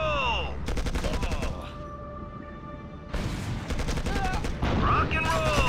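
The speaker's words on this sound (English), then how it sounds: "They're shooting at me!" Rapid bursts of gunfire crackle in loud volleys in the video game Act of War: Direct Action, pausing briefly before resuming, with a shouting voice heard between and over the shots.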